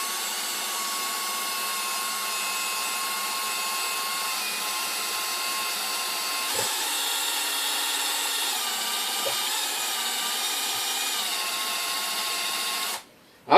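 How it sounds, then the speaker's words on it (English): A cordless power drill runs continuously at close range while drilling out bolts on a cast iron single burner forge, a steady whine that cuts off abruptly at the end. "I'm going to drill them out."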